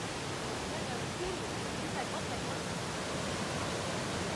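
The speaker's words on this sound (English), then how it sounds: "Beautiful rapids." Rushing river rapids at Okere Falls near Rotorua roar as a steady, dense broadband wash, close and loud and unbroken throughout, with no voices standing out over the water.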